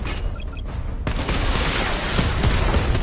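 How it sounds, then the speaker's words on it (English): A level-two missile barrage fires in a video game, a dense roaring volley of launches and blasts. It swells abruptly after a second and holds loud and continuous to the end. "Missile barrage level 2 ready."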